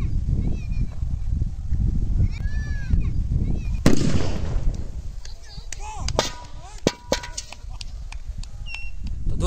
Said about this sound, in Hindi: इस बार आयरन पॉट बहुत ऊंचाई तक गया था और ग्रीन सुतली बम हमारा विनर हो गया है